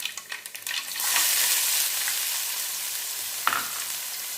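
Chopped onions drop into hot oil in a pan for a Nellore-style fish curry and burst into a loud close sizzle, which settles into a steady hiss with a spoon clink near the end.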